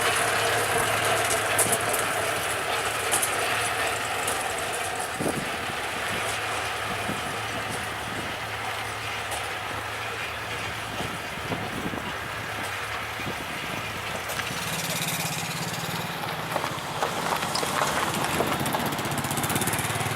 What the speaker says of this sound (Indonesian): inilah lokomotif Semboro D25 dan lokomotif Olean D2 melintas di jalur yang dikelilingi oleh kebun tebu ini